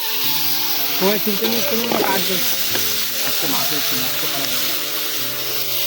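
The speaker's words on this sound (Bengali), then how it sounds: "এই যে বিরিয়ানি বিরিয়ানি, এখানে বিরিয়ানি হচ্ছে" Biryani cooking in a large pot at an outdoor picnic, a steady broadband frying sizzle with stirring scrapes throughout, close and loud, with voices and background chatter over it.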